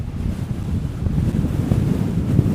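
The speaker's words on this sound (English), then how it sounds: "this headwind" A strong headwind buffets the microphone while cycling in San Francisco, producing a continuous low, rumbling roar that is loud and steady with slight gusty swells, with no voices.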